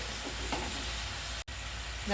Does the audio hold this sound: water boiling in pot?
yes